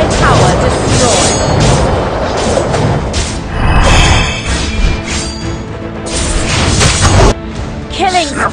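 A tower being destroyed in the game Dota 2 amid a battle, with heavy crashing booms and impacts rolling over several seconds, loud and close, under an in-game voice announcement.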